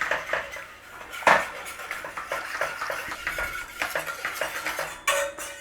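Clinking of utensils against a pan while a flour and milk sauce is stirred, a string of close, light metallic scrapes and taps with no voices.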